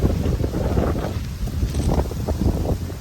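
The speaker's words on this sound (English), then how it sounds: "That's a lot of wind." Strong wind roars steadily at the microphone outdoors near a garage, buffeting loudly and continuously with no one speaking.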